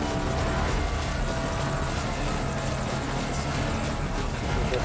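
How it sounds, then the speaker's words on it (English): Helicopter giving cover fire in Metal Gear Solid Ground Zeroes, a steady loud rotor and engine roar filling the whole stretch without pause, with faint talk underneath. "see the helicopter providing cover fire in the background"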